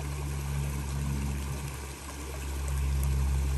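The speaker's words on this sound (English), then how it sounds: "Right where the two creeks converge" Creek water rushes where two creeks converge at a steep step along a hiking trail, a steady, low, continuous flowing rumble close by, heard alone with no voices.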